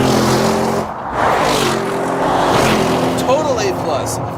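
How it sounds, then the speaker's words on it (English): A 2014 Audi RS7 engine drones loudly and steadily while the car drives through canyon roads, with a voice talking over the engine noise. "it's just a brutal, beastly engine"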